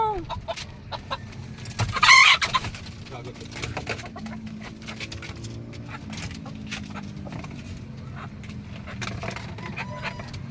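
Chickens cluck steadily around feeding time, with one sharper, louder squawk early on. People talk throughout.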